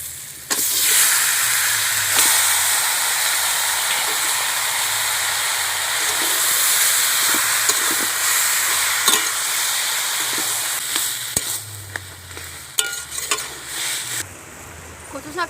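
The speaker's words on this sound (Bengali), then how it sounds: "কচু শাকটা আমি ভালো করে নেড়ে নিয়েছি" Taro leaves (kochu shak) being stirred in a frying pan, a steady broad sizzle and hiss of cooking with scattered spoon scrapes and clinks throughout, close and continuous.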